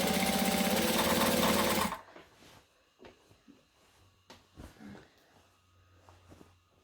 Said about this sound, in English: we're going to top stitch at 1/8 of an inch all the way around the hood